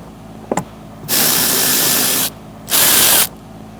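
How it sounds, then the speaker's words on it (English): A ratchet with a 16mm socket loosens rear seat bolts on a 2012-2019 Fiat 500 (1.4L L4), heard as two loud, close bursts of rapid clicking separated by a short pause, after a faint knock. "Using a 16mm socket, we're going to take out these 2 bolts"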